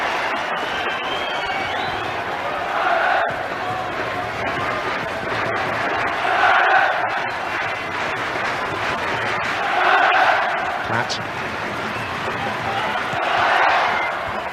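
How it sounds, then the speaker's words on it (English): A large football crowd of home supporters gives a sarcastic cheer at an England versus Ireland qualifier, a broad distant roar swelling and fading in waves under a commentator's voice. "That's an ironic cheer from the home contingent of supporters."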